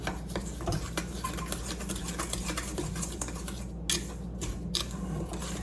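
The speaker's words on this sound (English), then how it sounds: "And then we're just going to stir that together." Flour, baking powder and salt for a blueberry cobbler stirred together in a bowl, making a soft continuous scraping and rubbing with a few sharper clinks of the utensil, close and fairly quiet.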